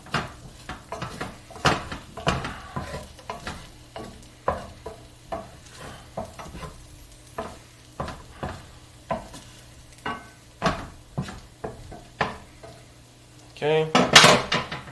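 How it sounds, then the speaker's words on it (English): Metal cookware clanks in a kitchen as a skillet is set onto toast in a pan, with steady rhythmic knocks and scrapes and a louder clatter near the end. "Put the skillet on top of the toast."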